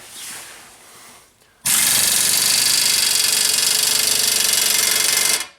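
An Ingersoll Rand IR 231 impact wrench drives the big screw of a ball joint press on a Nissan Rogue, starting after a quiet moment with a loud sustained rattling hammer for about four seconds, then cutting off.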